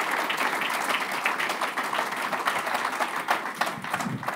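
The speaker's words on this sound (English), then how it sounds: "a round of applause to our panelists today" Conference attendees at a banking supervision forum applaud the panelists after a panel session, steady, full applause with many overlapping claps, holding at a moderate level with occasional sharper individual claps near the end.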